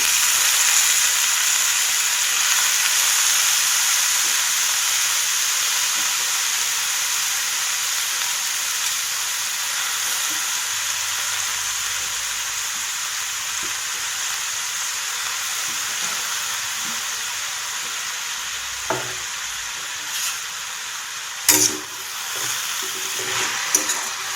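Finely chopped safflower greens topped with moong dal sizzle and hiss steadily in hot oil, close and continuous, with a few brief stirring knocks near the end and no talking.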